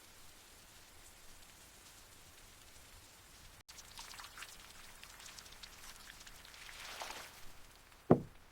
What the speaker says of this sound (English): It's raining so hard today.